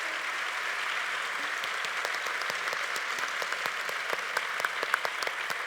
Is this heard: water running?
no